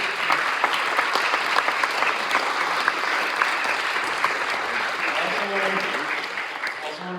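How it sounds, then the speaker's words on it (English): A crowd gives sustained applause at a state senate district candidate forum, with steady dense clapping throughout that eases slightly toward the end as a voice starts speaking. "let's give a round of applause for everybody."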